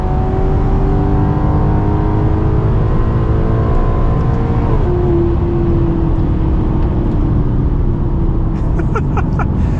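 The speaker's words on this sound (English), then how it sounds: "Smacked the rev limiter pretty hard in that first gear." Maserati GranTurismo MC Sport Line engine revving hard in first gear and bouncing off the rev limiter, a loud continuous roar with a rising, stuttering pitch and a sharp cut near the end.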